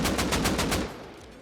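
An AK rifle in the video game Rust Console Edition fires a rapid burst of about seven loud, evenly spaced shots, then cuts off into a fading tail.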